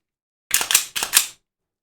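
Sharp metallic clicks and clacks from handling a gun during cleaning, two quick pairs of close, crisp mechanical snaps in otherwise silent surroundings.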